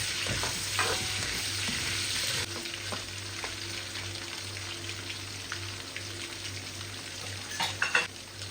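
String beans and squash fry in oil in a pan until browned, giving a faint, steady sizzle and a low background hum, with a few clinks near the end and no voices.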